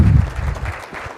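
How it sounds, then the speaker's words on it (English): An audience applauds the WGA team at a Decarbonizing the West workshop in Denver, a dense, steady wash of clapping from a crowd filling the short moment alone. "give them a round of applause"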